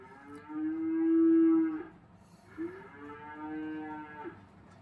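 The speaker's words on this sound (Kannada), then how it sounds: "ಅಯ್ಯೋ ಇದು ಹಸು." A cow moos twice, each call a long, low, drawn-out bellow with a short pause between, heard clearly on its own with no other sounds.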